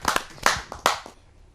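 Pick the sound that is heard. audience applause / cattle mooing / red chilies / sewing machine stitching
audience applause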